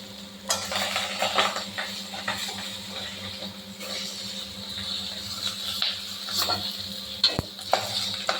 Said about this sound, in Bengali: এইভাবে লাল লাল করে উল্টে পাল্টে ভেজে নেবো শিং মাছগুলো